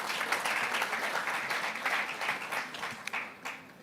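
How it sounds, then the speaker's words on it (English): Audience applause at a regional sustainable energy conference: a broad, continuous wash of many hands clapping that holds steady, then thins out and tapers toward the end. "but another round of applause, please."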